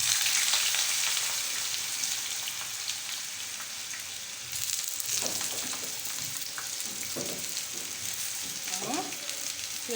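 Potatoes frying in a pan of hot oil beside a second pan of eggplant, a close, continuous sizzle and crackle with occasional stirring scrapes and clinks, no talking.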